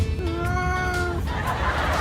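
A three-legged cat meows insistently indoors, one long drawn-out wail followed by a rough, noisy cry, loud and close with no voices over it.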